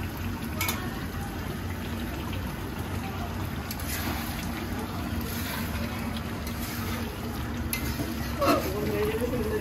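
Duck meat fries in a pan with garlic and is stirred, making a steady close sizzle with scraping stir strokes throughout, while someone talks in the background.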